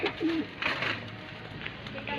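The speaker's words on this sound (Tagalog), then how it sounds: "Ito yung mga Kalapati." Pigeons cooing close by, a few soft low rolling coos over a quiet outdoor background with faint voices.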